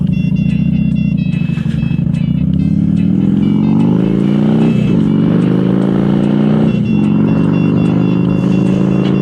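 A Harley-Davidson Softail motorcycle rides off with a loud, steady engine rumble that climbs in pitch through gear changes, staying close and continuous throughout.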